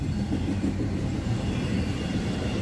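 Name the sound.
UPS freight train passing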